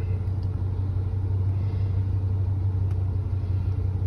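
A car with an oil pressure problem sits idling, a steady low rumble holding even and unbroken throughout, fairly close and alone.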